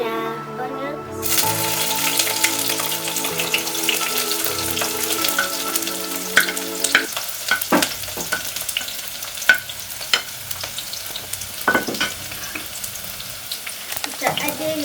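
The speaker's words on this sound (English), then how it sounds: "the fire so that you can fry our onions" Onions frying in a pan for spaghetti sauce, a steady bright sizzle running throughout with scraping stir strokes and clinks of a utensil against the pan growing more prominent in the second half.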